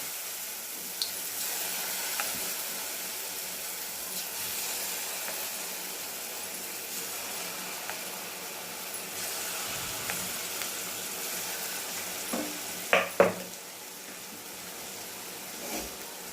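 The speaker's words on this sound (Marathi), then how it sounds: "तेल तापलेले हे वडे सोडून घेऊ आपण. असं चमच्याने छोटे छोटे वडे सोडून घ्यायचे." Spoonfuls of mixed dal batter for small vadas dropped into hot oil, a low continuous sizzle and bubbling with a brief burst of spattering near the end, no voices.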